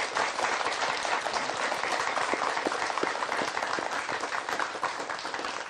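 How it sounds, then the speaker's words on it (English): A studio audience at a television talk show breaks into sustained, even applause, thick and close, filling the room with dense clapping throughout without letting up. "Please give him a round of applause."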